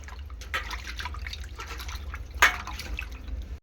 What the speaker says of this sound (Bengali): তো ভালো করে পরিষ্কার জল দিয়ে সুন্দর করে মাছটাকে ধুয়ে নেব।